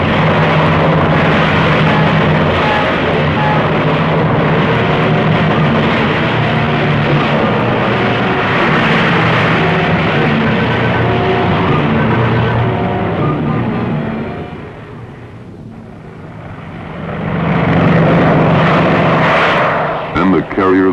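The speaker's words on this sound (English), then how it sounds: "these B-25s took off in weather that wanted to" B-25 bombers take off from the aircraft carrier Hornet in rough weather in April 1942, their propeller engines producing a loud continuous roar that dips briefly then swells again, with narration over it.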